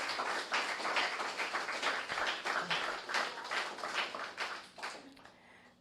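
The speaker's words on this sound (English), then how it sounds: "let's give our judges a big round of applause" An audience at a national debate competition's winner announcement applauds the judges with sustained, dense clapping from many hands that rises and falls steadily for several seconds before tapering off, heard from within the room.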